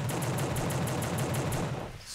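Rapid automatic gunfire from the player's weapon in the video game The Suffering rattles off as an even, fast string of about a dozen shots, loud and close, then cuts off near the end.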